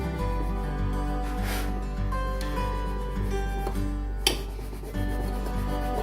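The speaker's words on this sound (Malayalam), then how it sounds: "കേക്ക് ലെവലറാണ് യൂസ് ചെയ്യണമെങ്കിൽ ഇതുപോലെ പതുക്കെ ഇത് അമർത്തി പിടിച്ചിട്ട്" A cake leveler's wire slices slowly through a soft sponge cake for a confetti birthday cake, making a soft, steady rubbing rasp over a constant tonal hum, with a brief sharper scrape near the end.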